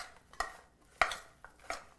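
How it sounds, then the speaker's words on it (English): Vegan caesar salad tossed in a bowl: four separate clinks and scrapes of utensils against the dish, with quiet pauses between them, close and fairly soft. "And we mix this up."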